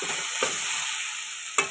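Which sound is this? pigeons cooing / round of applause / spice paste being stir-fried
spice paste being stir-fried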